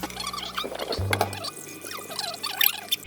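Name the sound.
rinsing noodles in cold water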